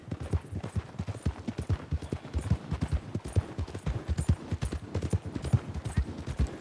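Galloping horse hooves in Red Dead Redemption 2 beat out a fast, steady clip-clop rhythm at close range and fairly loud for several seconds, with no talk over them.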